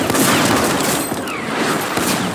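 Rocket blasts and gunfire in a multiplayer shooter video game, a dense continuous barrage of loud overlapping shots and booms with no clear gaps.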